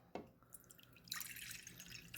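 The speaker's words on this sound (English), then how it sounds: "take my water and put a little bit in each bowl" Water poured from a container into a small bowl for a pepper experiment: a brief splash, then a steady, faint trickling pour close by with no talking.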